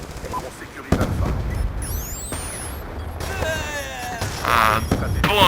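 Sniper rifle shot in Call of Duty Black Ops 2 multiplayer, one sharp report within a busy soundscape of game effects, other gunfire and someone talking.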